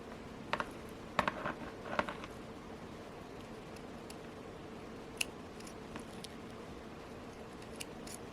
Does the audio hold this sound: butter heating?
no